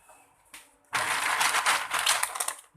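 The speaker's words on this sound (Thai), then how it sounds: "แล้วก็แก๊กกระทบหม้อ" A dense, rattling clatter of hard small shellfish shells tumbling into a metal pot for steaming, loud and continuous for a couple of seconds after a brief knock.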